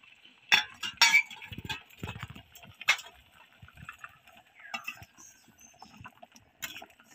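A spoon clinks against a bowl while saffron is dissolved in milk for a bottle-gourd kheer, giving several sharp, close metallic taps in an uneven rhythm with quiet stirring between them.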